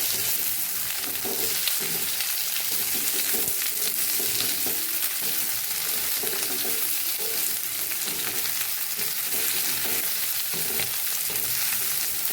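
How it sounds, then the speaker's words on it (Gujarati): Okra sautés in hot oil in a pan for a Kathiawadi-style gravy dish, giving a steady, dense sizzle with scattered stirring scrapes and soft crackles throughout, close and continuous with no talking. "હવે ભીંડાને આપણે આમ જ સાતળવાના છે જ્યાં સુધી ભીંડા તળી જાય ને ત્યાં સુધી આપણે તેલની અંદર આવી રીતે તાતડી દેવાના છે"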